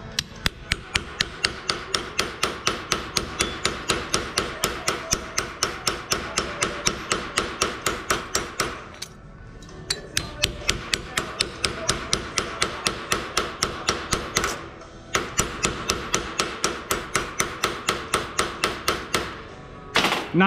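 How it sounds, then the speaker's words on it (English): A hammer strikes metal over and over while shaping a metal rose, producing a fast steady run of sharp ringing blows, close and loud, broken by two short pauses. "Notice I'm choked up on the hammer, and I'm letting this hammerhead do the work for me."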